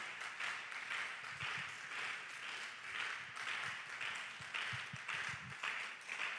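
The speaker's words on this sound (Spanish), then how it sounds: "Vamos, déle ese aplauso a Dios." Faint, steady applause from a church congregation, heard at a distance with a few low thumps underneath during worship.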